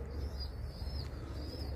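A tumbler game pigeon cooing softly, a short low coo heard faintly over a steady background rumble.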